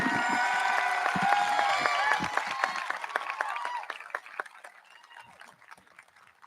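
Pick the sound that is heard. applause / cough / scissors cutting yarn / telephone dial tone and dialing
applause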